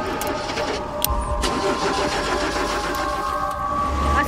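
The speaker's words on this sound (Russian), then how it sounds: "Смотри, как машины быстро ездят." Cars speeding past on a road, a continuous rushing engine and tyre roar with a few sharp knocks and a deep rumble near the end, steady and fairly loud, without talking.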